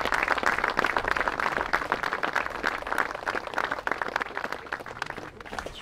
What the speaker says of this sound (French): C'est Charles Pochon que je vous demande d'applaudir.